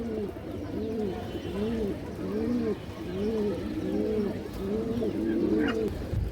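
Racing and high-flyer pigeons coo close by at a farm, repeating soft, rolling calls in a steady rhythm over a faint background.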